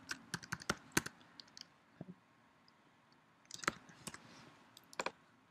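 Sharp clicks of typing on a computer keyboard, quiet and close, coming in uneven bursts of keystrokes with short pauses between them.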